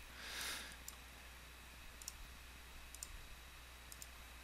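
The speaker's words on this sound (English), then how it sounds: "So we'll click on Show." A computer mouse gives a few faint, sharp clicks spaced about a second apart in a quiet room, with a soft rustle at the start.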